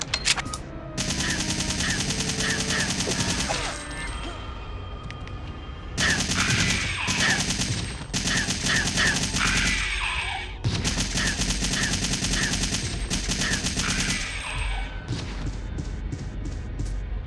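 Rapid bursts of pistol fire in Resident Evil 3 crack out in loud clusters separated by short pauses, with scattered faint thuds between volleys.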